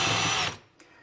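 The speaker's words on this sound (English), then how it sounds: "drill corresponding holes on the other side" A power drill bores holes into a wooden cabinet, whining loud and steady for half a second before it stops sharply, followed by a brief faint click.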